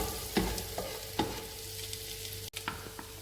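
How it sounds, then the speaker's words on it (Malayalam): Garlic frying in a pan for chicken fried rice with ginger added, a continuous close sizzle broken by several scraping stirs and a sharp clank of the spatula on the pan. "വെളുത്തുള്ളി നന്നായി മൂത്ത് വരുമ്പോൾ അതിലേക്ക് ഇഞ്ചി ഇട്ട് കൊടുക്കാം"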